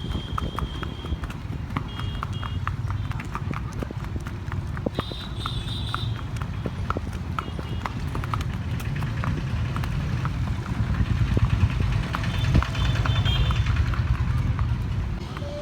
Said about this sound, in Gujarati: ઘોડી.